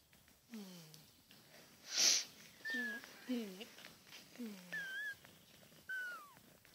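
Newborn kittens just after a young cat gives birth, letting out several faint, thin rising and falling mews at irregular intervals, with quiet sniffing and a brief louder noise between them, recorded close in a quiet room.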